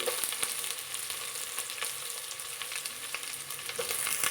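Chopped onions frying with spices in a pan for egg biryani, a dense continuous sizzle close up with occasional stirring scrapes and ticks.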